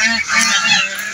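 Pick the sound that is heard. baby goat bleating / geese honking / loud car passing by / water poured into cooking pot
geese honking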